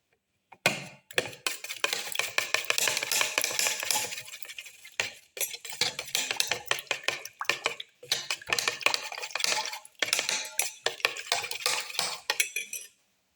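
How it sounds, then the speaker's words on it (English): Eggs for a black pepper cracker omelette, mixed with crushed tomato pieces, are beaten briskly in a bowl until frothy, making rapid rattling clinks of utensil against bowl in continuous bursts with brief pauses, close and without talk. "Mix until it's frothy"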